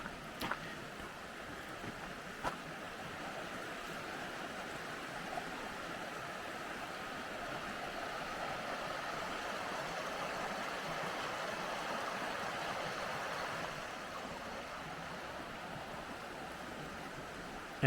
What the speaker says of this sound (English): This is Paint Creek.